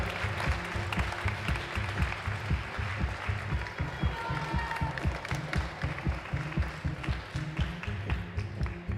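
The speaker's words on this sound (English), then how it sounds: "Applause." An audience in a stadium at a youth climbing competition in Curno applauds the medalists during an award ceremony, with sustained dense clapping carrying a strong low rhythmic beat throughout.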